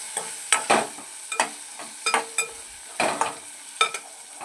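Drumsticks with turmeric sizzle in a pan for a tomato curry while a spoon scrapes and stirs them in quick, regular strokes, close and clear, with no talking.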